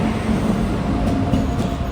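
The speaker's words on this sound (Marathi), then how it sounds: "थोड्याच टायमात आमच्या ट्रेनचं आगमन झाला" A continuous low rumble of a train arriving at a station rolls on steadily, with a faint hum and no voices.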